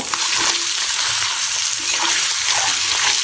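Eggs fry in a pan with turmeric, Kashmiri chili powder and salt for a dhaba-style egg masala, giving a loud, constant close sizzle and crackle from start to finish.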